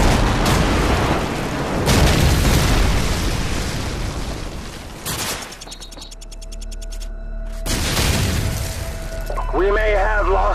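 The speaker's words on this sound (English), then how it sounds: "Friendly airstrike on the way!" Airstrike explosions in Call of Duty 4 multiplayer team deathmatch: loud, roaring blasts that rumble and fade, with a break in the middle before another heavy burst and some chirping game sounds near the end.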